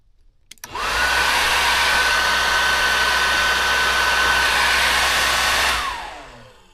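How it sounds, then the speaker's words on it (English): The heater blower fan of a VW Golf spins up after a faint click, then runs as a steady, loud, airy whir for about five seconds before winding down, with no talk over it. "you're gonna hear the blower fan is working"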